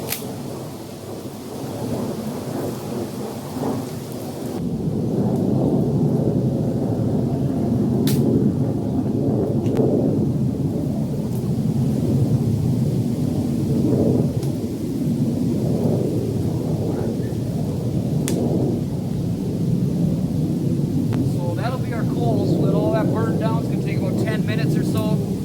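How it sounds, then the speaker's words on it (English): A military jet flies over a northern Minnesota forest near an air base, giving a loud, steady low roar that swells and holds for the whole stretch without letting up. "Wait for that jet to go by so I can keep airing."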